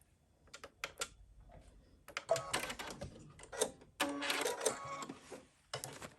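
A sewing machine fitted with an upgrade kit sews tapering stitches in short irregular runs of clattering mechanical taps, separated by brief pauses, close and moderately loud.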